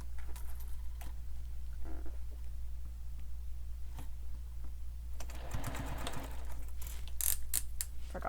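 Sewing machine stitching a seam for a sling pack, running in short uneven bursts of rapid mechanical clatter over a steady low hum, with quiet gaps and a faster stretch near the end.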